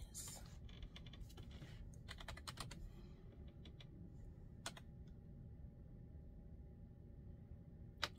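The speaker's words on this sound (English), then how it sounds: "Let's type in loneliness." Computer keyboard typing comes in quick bursts of clicky keystrokes, close and fairly quiet, over a low steady room hum, with scattered isolated key taps later on.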